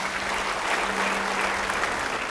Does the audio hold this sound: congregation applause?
yes